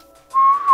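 A person whistles a short, clear rising note, faint at first and then loud and sustained for about half a second, close by with no speech.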